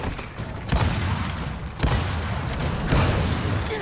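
Close-range shotgun blasts in the video game Gears of War 4 boom out three times at roughly one-second intervals over a dense, rumbling background of game noise.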